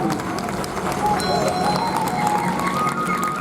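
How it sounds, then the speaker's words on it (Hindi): Loud applause from a seated audience at a community gathering of women and girls, a dense continuous wash of clapping that holds steady throughout, with a few voices and tonal sounds mixed in. "एक बार जोरदार ताली"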